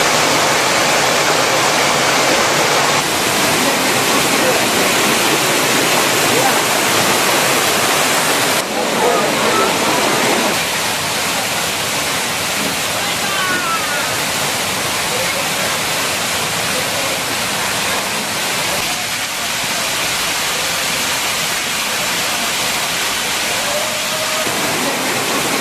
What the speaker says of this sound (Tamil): தொடர்ந்து திருப்பதியில் விட்டுவிட்டு மழை பெய்து வருகிறது.